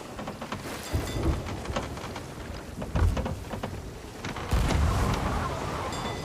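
A heavy rain-and-thunder storm at sea in RuneScape 3, buffeting a ship with waves. Dense, steady rainfall hisses throughout, and low thunder rumbles swell near the start, around the middle and again in the closing seconds.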